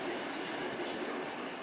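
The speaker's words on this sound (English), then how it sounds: "The train winds through the mountains." A passenger train winds through mountain country, giving a steady, even rolling rumble of wagons for the whole stretch, fairly distant and unbroken, with no voices.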